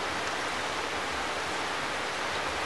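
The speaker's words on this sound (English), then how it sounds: "It's sunny, but it's like raining a lot." Rain falls heavily in a sunny animated Encanto scene, a dense, even hiss of downpour that stays steady and close throughout, with no voices.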